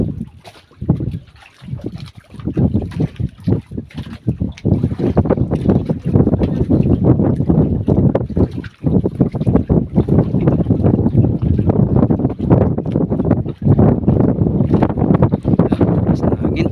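Strong wind buffets the microphone on a small fishing boat out at sea, a loud continuous roar with gusty surges and water noise filling the whole stretch.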